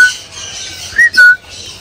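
Parrots in cages at a bird stall in Mumbai's Chor Bazaar give shrill whistling calls, two or three bright piercing notes near the middle over a steady market background hiss.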